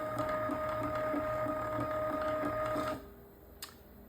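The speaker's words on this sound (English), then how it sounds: "filament spool loader" Arduino-controlled automatic filament spool loader for a 3D printer runs with a steady mechanical whir and a faint rhythmic ticking, then stops abruptly, followed by a small click.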